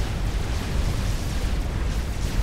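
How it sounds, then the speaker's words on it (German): A dense, rumbling explosion roar with crackling bursts, sustained and loud throughout, with no voices, from the strategy game Supreme Commander: Forged Alliance. "Bei manchen ist die Explosion groß"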